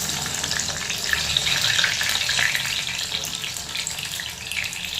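Brinjal (eggplant) pieces frying in hot oil in a kadai give off a steady, loud, close sizzle that crackles on without pause.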